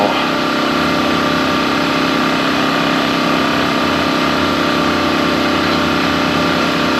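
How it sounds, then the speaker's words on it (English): Constant engine drone from a running generator, loud and steady without a break, with a dense hum and a hiss-like wash over it and no talking. "our other generator's been going 17 minutes"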